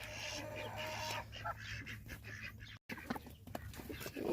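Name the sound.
hen clucking, stuck behind a pen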